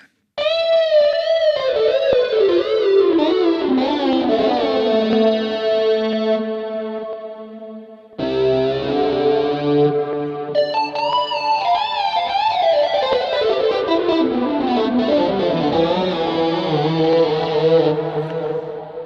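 Electric guitar through a Rockman amp, heavily effected with chorus, distortion and echo, sustained chords and sliding melodic lines, loud and continuous with a short gap midway.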